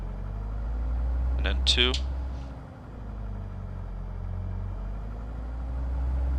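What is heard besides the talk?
Diamond DA40 engine with throttle cycled, from video game Microsoft Flight Simulator 2024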